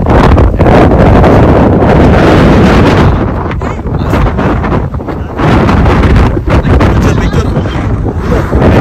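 Strong wind roars across a microphone beside a highway on a road trip toward Calgary. It makes loud, constant buffeting rumble with a brief lull midway before the gusts pick up again.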